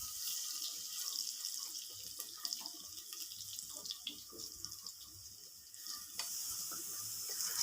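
Crushed garlic and cumin sautéing in a pan for a dal rice dish make a soft crackling sizzle, broken by irregular stirring scrapes and a running-water, tap-like wash in the background.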